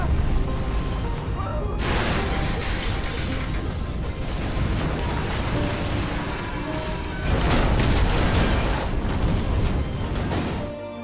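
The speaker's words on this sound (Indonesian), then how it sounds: "menyebabkan ledakan hingga bagian-bagian kapal terlempar ke sana kemari" A film's ship explosion: a loud, dense blast of explosive noise with crashing debris, sustained throughout, swelling again near the end with a fresh burst.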